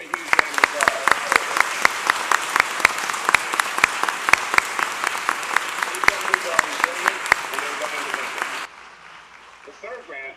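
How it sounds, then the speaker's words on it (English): Loud, sustained audience applause at a Philadelphia public event, dense clapping with sharp individual claps over a crowd wash, cutting off abruptly near the end into faint room noise. "Give them a huge round of applause."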